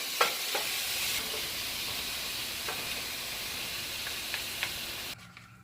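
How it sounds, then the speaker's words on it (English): Ground beef, a pound of 80/20 mince, sizzles as it browns in a pan, a steady frying hiss with occasional stirring scrapes before it cuts off. "I'm going to brown my ground beef"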